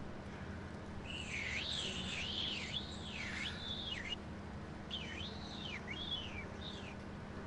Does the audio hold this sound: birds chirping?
yes